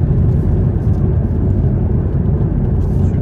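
An Alpine A110 accelerates on a snowy Lapland driving course, a loud, steady low engine roar filling the whole stretch without a break.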